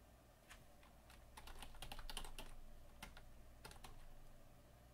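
Keystrokes on a computer keyboard, a quiet burst of irregular taps clustering in the middle and thinning out, close up with a low steady hum beneath and no talk.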